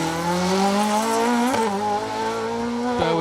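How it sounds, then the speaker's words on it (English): A Ford Escort rally car on Ford Motorsport wheels swings hard around a hairpin at Sartfield during the Manx Rally, its engine note rising and falling with a brief tyre squeal, loud and close throughout. "They really chucked that Escort in and pendulumed that car around the hairpin here at Sartfield"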